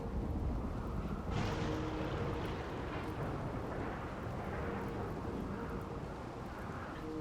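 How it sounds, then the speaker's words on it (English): Steady rain hiss with low rumbling thunder in RimWorld, a broad continuous wash that swells briefly early on and then holds evenly, fairly faint, with no talk. "And there's the rain."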